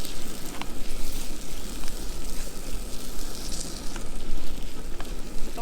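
Potatoes, mushrooms, Beaufort cheese and onions frying in a pan, a steady loud sizzle and crackle that carries on throughout with no voices.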